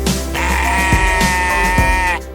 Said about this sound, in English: thank you for stop yelling as two sheep in a slaughterhouse.